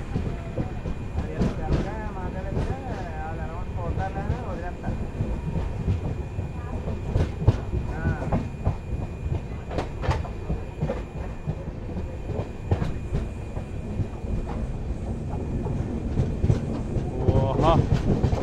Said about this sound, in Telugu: మొత్తానికి మన ట్రైన్ వచ్చేసి పిఠాపురం నుండి డిపార్ట్ అయిపోయిందండి